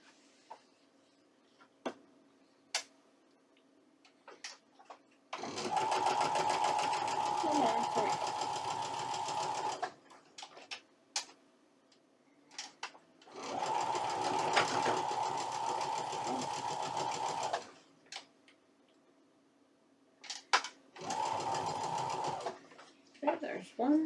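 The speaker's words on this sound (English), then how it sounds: "let's sew these up." A sewing machine stitching cotton quilt pieces runs in three separate bursts of rapid, even buzzing, close up, with quiet handling clicks and ticks in the pauses between runs.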